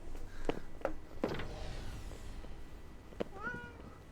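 A cat in the video game Alien Market Simulator lets out a few short meows, then a longer rising meow near the end, over a faint background hum.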